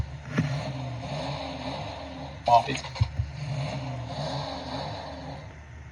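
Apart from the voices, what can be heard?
car starting sound effect from Ontoys Blindfold Travel Cards video game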